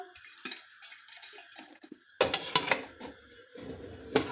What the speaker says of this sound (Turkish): Şöyle kapağını kapatalım.